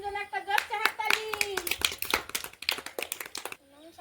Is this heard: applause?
yes